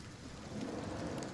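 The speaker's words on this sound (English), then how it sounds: "It makes sense that it is incredibly rainy here." Heavy jungle rain falls steadily in the rainforest biome of the game Ylands, a dense broadband downpour with low rumbling underneath, continuous and fairly loud with no voices over it.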